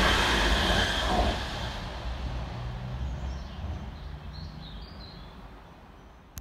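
Train 221141 passes on the fast line at Kidsgrove station, a broad rumble of wheels and rail that fades steadily after a loud opening as the unit runs through.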